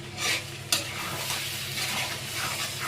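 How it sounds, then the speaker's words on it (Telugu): Chicken liver and gizzard fry, a roadside-style dish, stirred in a hot pan just after coriander powder goes in: a steady, close sizzle with repeated scraping strokes and one sharp clink of the spoon against the pan. "ఒక స్పూన్ ధనియాల పొడి అంతా వేసి బాగా మిక్స్ చేసుకుందాం"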